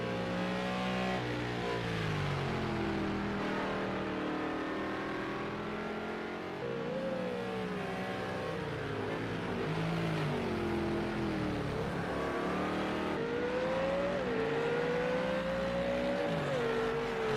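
GT3 race cars lap Laguna Seca in a PS4 racing game, engines revving and shifting continuously with rising and falling whines as cars close up and pass, loud and steady throughout with no talk over it.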